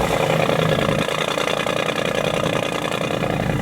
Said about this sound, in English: Yeah, you got that good V8 rumble off the sides, baby.